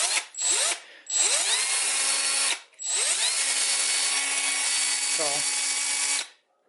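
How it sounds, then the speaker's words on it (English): A small belt sander runs in three bursts, one short and two longer, each spinning up with a rising whine and a loud, steady broadband motor roar, close by with no talking. "Just a little belt sander."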